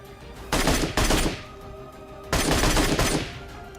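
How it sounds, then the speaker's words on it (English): Two loud bursts of rapid automatic MK12 rifle fire in PUBG Mobile, each a quick string of shots lasting about half a second to a second, close and dry with a short pause between volleys. "The MK12 can be used just like the Mini 14 or the SKS to put a lot of shots downrange in a hurry."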